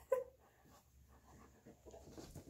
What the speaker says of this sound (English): I spend a lot of time with this dog.